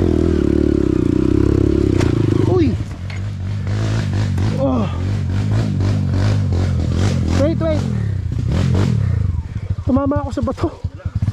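A Honda CRF 150L dirt bike on a rocky night trail in Talumpok, Batangas: loud engine drone, then sharp scraping clatter and knocks as it strikes a rock, followed by rough bumping and rattling up close.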